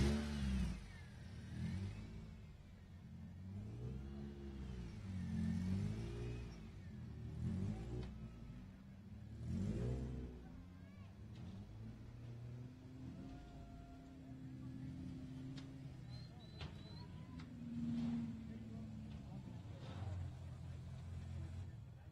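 Off-road race car engine idling and revving at the SCORE Baja 400 finish line, rising and falling in repeated pulls, heard close under steady talk from people nearby.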